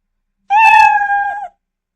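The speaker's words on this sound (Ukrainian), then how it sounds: "І давайте ще відтворити звук няу." A single clear cat meow sound effect plays in the Scratch programming environment, loud and close, lasting about one second against silence.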